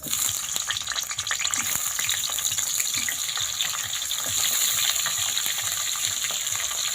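Pieces of pointed gourd hiss and sizzle loudly in hot mustard oil in a kadai, a steady bright crackle with brief spattering pops and no talking.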